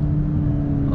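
2022 VW GTI hot hatch accelerating on throttle, a steady loud low engine drone heard from inside the car.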